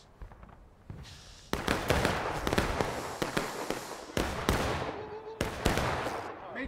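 Musket volleys crack out in War of Rights, a Civil War infantry battle, with several sharp loud shots in quick bursts over a rumbling battlefield background and faint voices.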